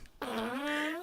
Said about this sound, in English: stop with the farting,